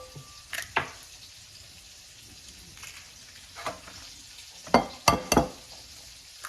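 Scrambled eggs cook in a pan for an all-American breakfast, with a low sizzle and a few sharp utensil scrapes and clinks against the pan, loudest near the end.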